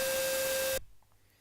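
An AY sound chip plays a chiptune note in Vortex Tracker, a sustained pure tone layered over a hiss of noise, loud and alone, cutting off sharply after under a second into near silence.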